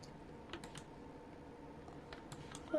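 Light, scattered keystrokes on an Apex 9 TKL computer keyboard, a few soft clicks spaced irregularly over a quiet background, ending in a brief louder sound.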